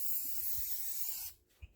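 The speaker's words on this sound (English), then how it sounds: "I'm just going to go ahead and spray some adhesive inside here." A loud, continuous hiss of spray adhesive from an aerosol can for about a second, then stopping, followed by a faint soft thump.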